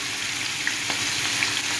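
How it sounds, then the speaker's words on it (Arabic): Egyptian-style chicken drumsticks sautéing in a frying pan, a steady close sizzle of hot oil with faint spatter crackles, uninterrupted throughout. "هنشوحها شويه في قلب الطاسه لحد ما تاخد معانا لون وتخش في السوا شويه"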